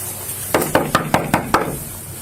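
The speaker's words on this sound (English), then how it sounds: "Officers knock on the door, but no answer." Officers knock firmly on a closed bathroom door, six evenly spaced raps in quick succession, close and distinct against a quiet room.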